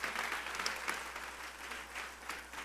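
Congregation in a church service applauding together, a steady dense wash of many hands clapping at moderate distance over a low hum, with no voices standing out.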